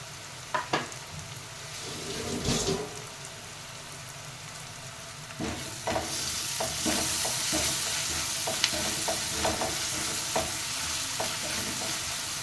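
Onions fry in oil in a pan for a Guntur-style mutton curry with ginger and garlic, a steady crackling sizzle with occasional stirring scrapes and taps, close and continuous.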